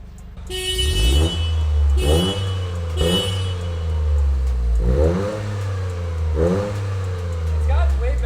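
A car engine with freshly modified exhaust revs repeatedly, with about five sharp rising revs, each dropping back to a deep idle rumble between bursts, loud and close.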